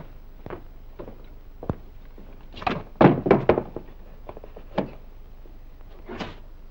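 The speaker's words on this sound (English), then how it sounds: "There's someone at the door." Door sounds in a vintage spy-thriller film scene: a series of dull thunks and knocks, then louder thumps and a door opening, fairly close and with no talk over them.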